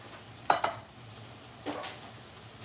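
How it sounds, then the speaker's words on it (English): Canned food stirred in a pot: two sharp metallic clinks of a utensil against the pot near the start, then a softer scrape, over a low steady hum, close and without talking. "Just kind of stir this around."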